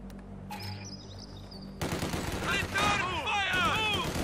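Gunfire in the World War II strategy game Company of Heroes 2, Red Army battle in Minsk: after a quiet lead-in with a faint whistle, dense rapid rifle and machine-gun bursts erupt and continue, with whistling ricochet-like tones over the barrage.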